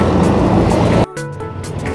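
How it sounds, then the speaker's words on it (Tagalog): City road traffic heard from a bicycle on a ride into Manila: a loud, steady rumble of passing vehicles that drops off sharply halfway, leaving quieter engine hum and distant traffic noise. "Traffic na kaagad."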